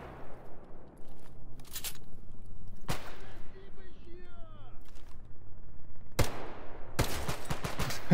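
Gunfire in the video game S.T.A.L.K.E.R. GAMMA: a few sharp, loud shots scattered across the stretch and a quick burst near the end, set against a steady background rumble.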